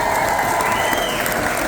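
Audience applause in a cruise ship show venue, steady dense clapping from a crowd that fills the whole short stretch at an even level.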